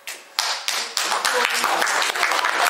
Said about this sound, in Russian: поблагодарим его аплодисментами